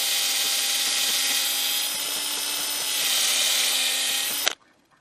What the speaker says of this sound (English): So basically we just pilot hole the ends,